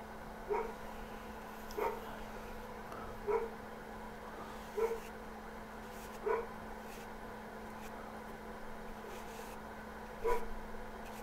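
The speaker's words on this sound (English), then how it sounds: "You might be able to hear my dog raising a little cane back there." A dog barks faintly somewhere in another room, single short barks spaced about every one and a half seconds under a steady indoor hum.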